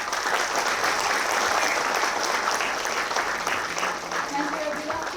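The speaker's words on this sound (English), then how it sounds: "Please give them a round of applause." A large audience at a university event welcoming dignitaries breaks into sustained, dense applause that stays loud throughout and tapers slightly near the end, with faint voices mixed in.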